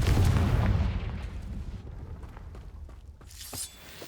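The Confringo blasting spell goes off in Hogwarts Legacy as a loud, deep explosion that booms at the start and rolls away into crackling debris and rumble, with a brief sharp burst near the end.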